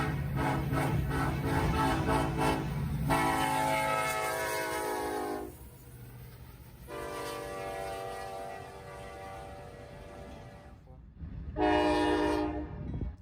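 A grain train led by EMD power passes at track speed, its K5 horn sounding in long loud blasts with gaps and a final short blast over a steady rumble of rolling cars, fairly close.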